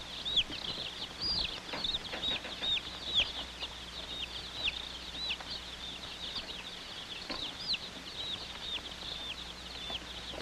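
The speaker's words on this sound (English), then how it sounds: "Fragile items like this box of chicks were put aside to be placed on top of the pile." Chicks peep steadily in a box among mail sacks being loaded, a dense run of high, thin chirps that carries on throughout over a low background hum.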